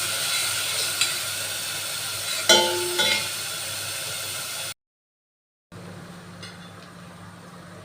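Grated onion frying in oil in a pan, a steady loud sizzle with a few clattering knocks of a utensil, a brief gap of silence, then the sizzle resumes more quietly.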